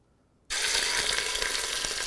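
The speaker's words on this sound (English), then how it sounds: "You want that sizzle when you first put the meat down." After brief quiet, beef cheeks hit hot vegetable oil and a loud, steady sizzle erupts, a dense crackling hiss that continues without pause.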